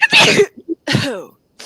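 Someone in the audience of an evening talk sneezes: a sharp, loud burst nearby, then small catches of breath and a second forceful burst, with a short start of another at the end.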